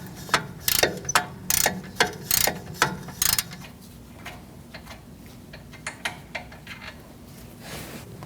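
Rapid ratcheting clicks from a ratchet wrench working on rear wheel hub bolts of a 2008-2014 Mercedes-Benz C300, several loud close bursts of metallic ticking followed by fainter, slower clicks.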